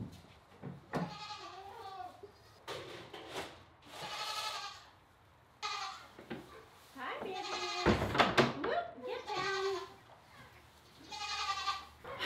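A goat due to kid soon bleats repeatedly near a farm barn, loud nasal wavering calls in several bursts, with people talking in between and over them.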